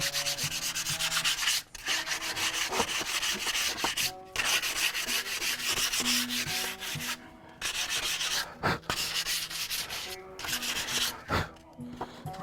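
Sanding on the back of a wooden cigar box guitar, a steady scratchy rubbing in long back-and-forth strokes, close and fairly loud, broken by a few short pauses.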